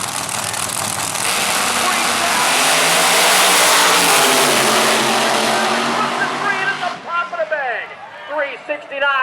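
A Camaro drag racing at Maryland International Raceway roars at full throttle, loud and sustained with rising engine pitch, then cuts off into a quieter stretch where an announcer talks over the fading track noise.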